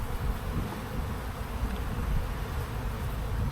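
Honey bees buzz steadily at an open, strong spring hive, a dense continuous drone that stays close and loud throughout, with no voices.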